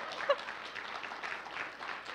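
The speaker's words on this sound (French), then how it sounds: "Là, on applaudit" A church congregation applauds softly, a fairly quiet, even patter of clapping with one brief sharper sound near the start and a faint voice beneath.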